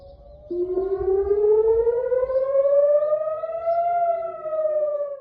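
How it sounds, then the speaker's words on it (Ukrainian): A single air raid siren wails, its tone rising slowly and holding steady, heard at a distance over faint background noise. "по всій країні працюють сирени"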